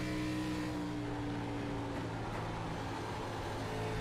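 ARCA stock car engines roar and whine at a distance during a race at Dover, forming a steady, continuous drone of high-revving motors.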